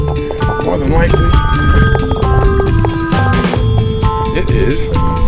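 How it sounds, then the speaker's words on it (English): A telephone rings loudly and repeatedly on a boat during a solo tuna-trolling trip off Key Largo, its trilling tone running throughout over engine and water rumble. "There's the phone."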